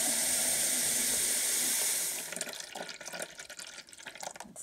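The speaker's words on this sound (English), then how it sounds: "in there, add some water." Tap water pours into a dye pot holding alum-mordanted yarn: a loud, steady rushing hiss for about two seconds, then softer splashing and bubbling.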